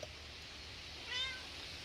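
A cat meows once, a short faint cry over steady background hiss in a garage where a Dodge 360 with throttle-body injection is having its distributor worked on.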